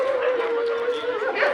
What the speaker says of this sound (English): Here one stray dog